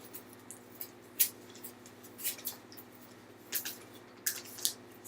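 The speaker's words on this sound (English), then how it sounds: "And then cut off the bottom left corner." Scissors snip through folded paper in a few short, crisp cuts, quiet and close, separated by brief pauses over a faint steady hum.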